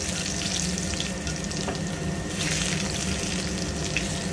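Chopped garlic, added after cinnamon, sizzles and crackles steadily in hot cooking oil, a loud, continuous frying hiss with scattered sharp pops throughout.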